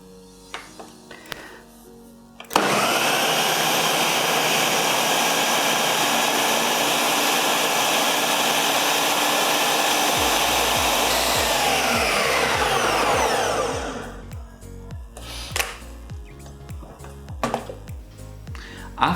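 A kitchen blender whirs loudly and steadily for about eleven seconds while blending a homemade basic seasoning paste, then spins down, with quieter kitchen clatter and handling noises before and after.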